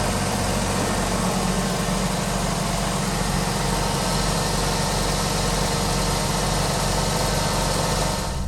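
A cheap, worn Chevrolet Cavalier's engine runs steadily at idle with a dense, constant rumble and vibration, close and loud throughout, with no talk and no clearly distinct shift clunk into drive.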